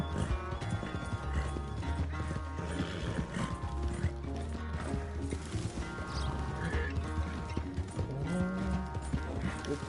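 Hooves clip-clop in Red Dead Redemption 2 over a busy layered background of mechanical clicks and tonal music, with occasional whinny-like sounds in the mix.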